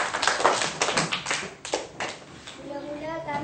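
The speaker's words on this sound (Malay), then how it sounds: "Tepukan untuk Ashikin." A short burst of hand clapping from a small group, brisk and uneven, fading after a couple of seconds as a voice begins.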